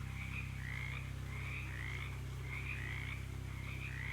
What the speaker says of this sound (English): One of the larger frogs hops up to you and coughs loudly.